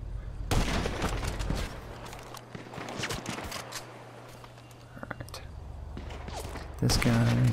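Gunfire in GTA Online comes in quick bursts of sharp shots scattered through the stretch, interspersed with thumps, while a voice talks quietly over the game.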